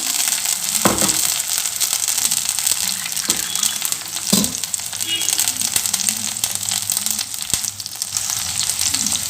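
A thick ground paste sizzles and crackles in a hot pan for pongal sambar, with a steady frying hiss and occasional louder pops and scrapes.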